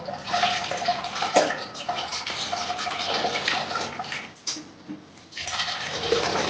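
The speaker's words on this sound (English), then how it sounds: "Now we're going to cool them under some cold water" Cold tap water runs steadily over fruit in a kitchen, a loud continuous splashing rush that breaks off briefly near the end and then starts again.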